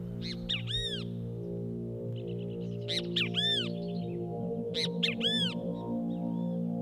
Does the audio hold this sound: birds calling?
yes